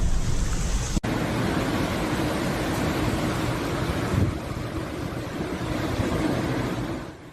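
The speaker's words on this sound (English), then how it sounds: "Giant waves formed on the Konyaaltı beach" Giant storm-driven waves pound Konyaaltı beach in Antalya, producing a continuous, loud roar of surf, with a sharp thump near the start and no voices.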